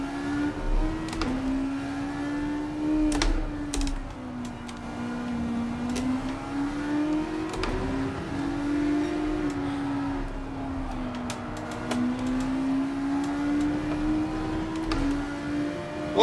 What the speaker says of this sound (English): it's the best looking Group 3 car in the game and has one of the best engine sounds